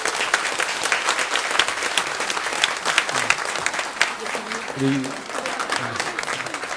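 A church congregation bursts into sustained applause for a newly married couple and their family standing in the sanctuary, dense steady clapping throughout with a few voices rising over it.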